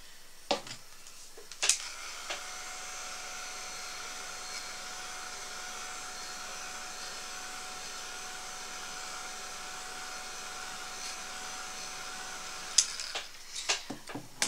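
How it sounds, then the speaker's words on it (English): A heat tool blows steadily to dry a coat of paint on a statue craft, a continuous even hum with a faint whine, framed by a few clicks as it is switched on and off. "Let it dry, or dry it with a heat tool in between each coat."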